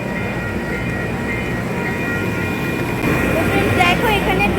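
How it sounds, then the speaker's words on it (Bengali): A double-decker passenger train rumbles at a station in California, a steady loud mechanical drone with a faint higher whine, intensifying slightly toward the end. "ডবল ডেকার ট্রেন রয়েছে দেখো কত উঁচু ট্রেনগুলো"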